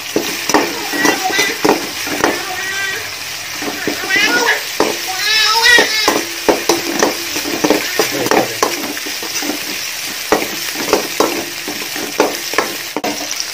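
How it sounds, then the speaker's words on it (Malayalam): Ginger, garlic and green chilies sautéing in a large pot for Kerala-style chicken biryani, a steady sizzle with repeated stirring scrapes and clatter, while voices talk in the background throughout. "അപ്പോൾ അതിലോട്ട് നമ്മുടെ ഇഞ്ചിയും വെളുത്തുള്ളിയും പച്ചമുളകും ചേർത്ത് അതൊന്ന് മൂപ്പിച്ചെടുക്കാം."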